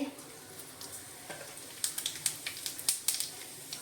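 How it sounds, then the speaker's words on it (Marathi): Mustard seeds and cumin hit hot oil while kanda poha is being made, giving a faint sizzle at first. It turns into a quick run of sharp crackles and pops toward the end, close by. "आपण आता तेलामध्ये टाकूया मोहरी जिरे"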